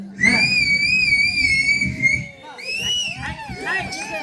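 At a Tamil karakattam show, a long, loud shrill whistle rings out, followed by several shorter rising and falling whistles amid crowd noise and voices.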